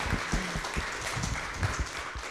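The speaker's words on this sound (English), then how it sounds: "A round of applause for our speaker." Short burst of audience applause for a speaker at a public seminar on globalization, scattered claps rising over room noise, moderately quiet and brief.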